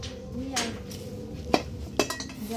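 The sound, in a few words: wok being placed on a wood fire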